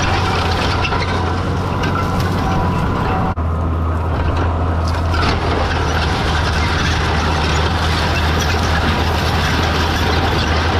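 A no-till seed drill rolls through a field drilling cover crops, its chains and seed meters turning in a constant mechanical rattle and clatter over a steady low drone, loud and close throughout.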